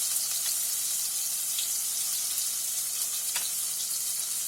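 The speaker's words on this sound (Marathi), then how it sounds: "शिमला मिरची टाकते. अद्रक टाकते, थोडी लसूण टाकते" Capsicum, ginger and garlic in hot oil in a frying pan, a steady, bright, close sizzle with slight crackles, alone, for a chutney.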